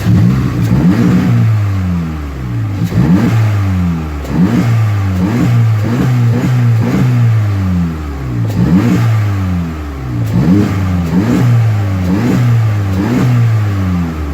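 A VW MK7 Golf R fitted with a Go Fast Bits MK7 GTI blow-off valve is revved repeatedly up close, with loud, rhythmic engine surges and hissing bursts between throttle blips.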